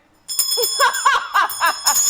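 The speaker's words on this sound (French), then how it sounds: "On sonne la cloche pour Maxime, quand même." A bell rung in celebration during a French-language community broadcast, with bright, loud, repeated ringing tones that start suddenly and run on steadily, joined by voices.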